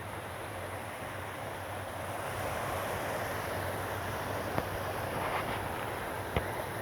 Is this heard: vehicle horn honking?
no